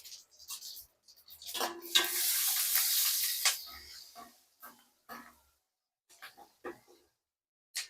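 Curry leaves and green chilli strips hit hot oil tempered with mustard seeds and asafoetida, bursting into a loud crackling sizzle that fades over a few seconds, followed by scattered sputters and spits.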